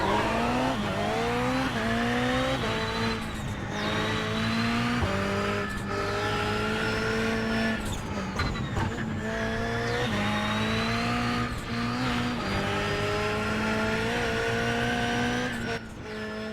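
Ford Fiesta rally car in the iRacing video game climbing the Washington Auto Road, engine revving hard and rising through gears with repeated shift dips and brief tire squeal, loud and steady throughout with no talk.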